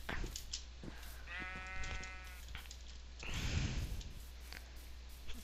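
Sheep in the Minecraft video game bleat in short wavering calls over a low constant hum, with scattered clicks and a brief rustling burst.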